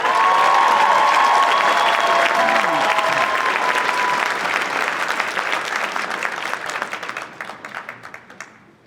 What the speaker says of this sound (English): Let's have a round of applause for Mayor Morocco.